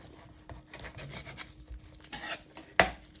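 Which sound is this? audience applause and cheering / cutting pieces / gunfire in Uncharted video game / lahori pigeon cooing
cutting pieces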